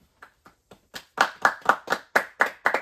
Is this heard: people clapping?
yes